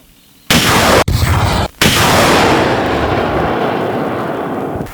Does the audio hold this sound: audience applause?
no